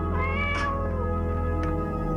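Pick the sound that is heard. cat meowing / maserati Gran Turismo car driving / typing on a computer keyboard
cat meowing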